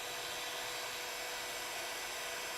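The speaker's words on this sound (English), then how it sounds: "because we are drilling all the way through" A power drill bores all the way through the leg of a plastic toy figure during a repair, giving a steady high-pitched whine that holds at a constant level for the whole stretch, with no talking.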